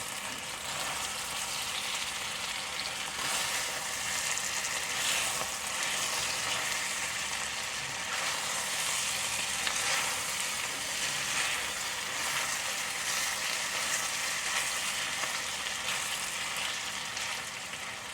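Okra sizzles and crackles steadily in an overcrowded frying pan, a dense, continuous hiss of hot oil with no break and no voices.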